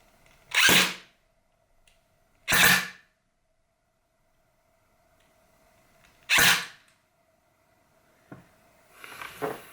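An AEP airsoft gun with an SG24 barrel firing 0.25 gram BBs through a chronograph, three separate loud whirring shots spaced a couple of seconds apart in a quiet room, followed by faint clicks and a brief rustle.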